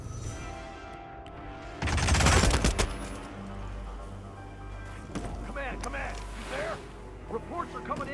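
A quick volley of video game gunshots in Hitman's Colorado militia mission, loud and close, fired in a burst, then scattered voices and shouting.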